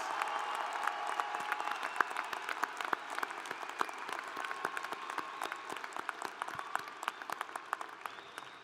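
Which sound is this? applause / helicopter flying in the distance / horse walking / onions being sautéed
applause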